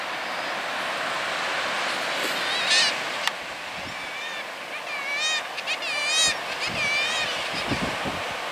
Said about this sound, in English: looking down on the chalk cliffs with all the birds flying around